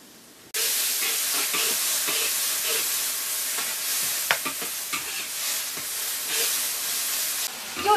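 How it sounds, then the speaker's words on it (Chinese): Mushrooms stir-fried in a wok for an evening meal in a Heilongjiang forest home, a loud steady close sizzle starting abruptly with spatula scrapes and stirring clatter running throughout, ending in a brief shift near the end. "又炒了一个蘑菇"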